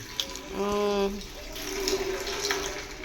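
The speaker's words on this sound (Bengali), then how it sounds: "জলের প্রেশারটা এখন বর্তমানে এরকম আছে, তবু এখন কিন্তু জলের টাইম না, কিন্তু অনবরত পড়ে" Water runs continuously from a tap in a home, a steady splashing hiss. A brief tonal hum rises partway through, and it stays close with faint background activity.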